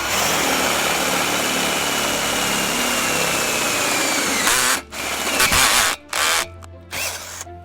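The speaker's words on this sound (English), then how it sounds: "We're now ready to drill the 1/2 inch hole, and we of course have our pilot hole started." A power drill enlarges a pilot hole to half an inch through Westbury aluminum railing, running steadily and loudly up close, then stopping and restarting in short bursts near the end.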